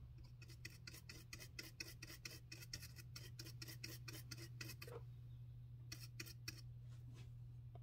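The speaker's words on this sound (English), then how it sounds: "Clean it up with some IPA." An Xbox One game and Blu-ray drive part is rubbed clean with isopropyl alcohol, producing rapid, even, scratchy strokes that repeat steadily for several seconds, pause briefly, then resume, all quiet over a low constant hum.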